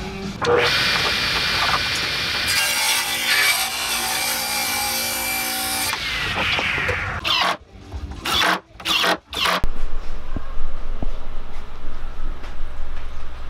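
A handsaw rips lengthwise down a 2x4 board in a shop, a steady rasping stroke sound lasting several seconds, then a few sharp knocks and clatters as the cut finishes, followed by quieter low shop noise.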